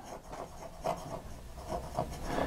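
An Esterbrook fountain pen with an oblique italic nib writes on paper, giving faint, close, scratchy strokes in a loose rhythm, with a few slightly louder scrapes.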